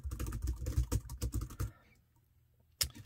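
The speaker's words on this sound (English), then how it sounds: "I'm gonna go ahead and just type something random here" Quick, irregular clicks of typing on a Jelly Comb slim rechargeable Bluetooth keyboard, close and clear for about a second and a half, then a pause and one final keystroke.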